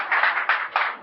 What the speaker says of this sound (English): never any clapping